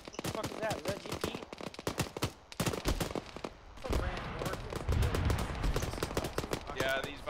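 Gunfire in the military video game ArmA, a dense stream of sharp rifle shots and short bursts, some close and some farther off, cracking repeatedly throughout while voices talk over it.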